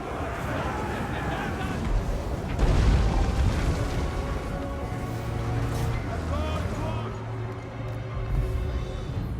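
Hell cannon shots explode amid Warriors of Chaos horsemen in a Warhammer battle game, heavy booms rising over a dense, continuous din of battle noise, music and shouting voices throughout.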